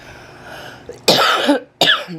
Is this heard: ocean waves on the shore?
no